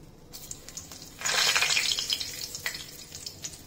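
Bay leaf dropped into 3 to 4 tablespoons of well-heated oil in a kadhai for rajma gravy, a sudden bright sizzle swelling after a quiet start, then settling into a steady crackling fry with small spits, close and fairly loud.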